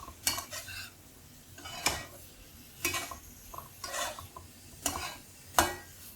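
A spoon knocks and scrapes through a spring onion and potato stir fry in a metal pan, about six distinct stirring strokes spaced roughly a second apart over a faint low sizzle, close and without speech.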